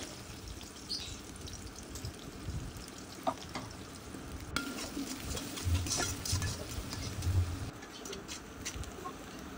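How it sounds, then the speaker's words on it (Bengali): Onions and green chillies fry in hot oil in a home kitchen, a soft, steady sizzle with faint crackles, heard at a distance with some bird chirps in the background. "এখানে তেলটা একটু গরম করে নিয়ে তারপর দিয়ে দিলাম পেঁয়াজ, কাঁচামরিচ।"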